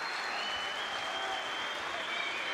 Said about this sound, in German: Also bitteschön, nochmal Applaus für beide Kämpfer.